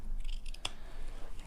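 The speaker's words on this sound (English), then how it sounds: "So I'm just cutting from the folded edge all the way up." Sewing scissors slice through folded fabric with a crisp, close snip during a tote-bag sew-along, heard once clearly over a steady background hiss.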